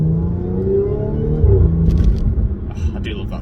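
A supercharged Audi S5 with an APR intake and an ECS intake pipe pulls while driving. A rising engine drone peaks and drops away, then a few sharp clicks and rattles follow.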